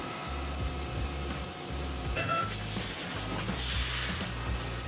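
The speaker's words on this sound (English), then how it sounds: "we're just gonna send it over to the printer" A desktop 3D printer runs through a custom shower handle adapter print, a steady low mechanical drone with faint whirring motor tones and small shifts in pitch, close by with no talking.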